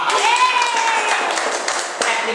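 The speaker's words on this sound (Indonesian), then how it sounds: "Kita tepuk tangan buat orang yang diam" Audience clapping at an Indonesian stand-up comedy show, a steady wash of claps mixed with crowd voices and a whistle-like tone, fairly loud throughout.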